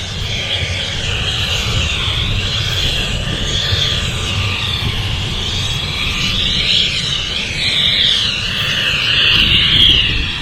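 Aircraft engines roar at London City Airport as an Embraer jet sits nearby, a loud continuous rumble with a wavering high whine that swells and shifts, no voices over it.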